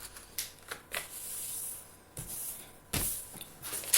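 Crisp paper creases and rustles as a square sheet is folded into a triangle for a handmade flower card, with several short sharp crackles and soft slides nearby and no speech.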